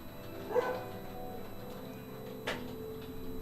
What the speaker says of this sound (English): Let's see what this dog's barking at.